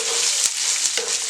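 Dried red chillies fry in a pan for thoothuvalai chutney, giving a steady, close sizzle with a couple of brief stirring scrapes and no talking.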